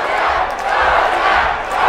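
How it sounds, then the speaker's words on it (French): A wrestling crowd at a live JCW show in St-Ambroise roars and cheers for Paul Goliath, a steady loud wash of many voices with no pauses. "Et là, la foule encourage Paul Goliath"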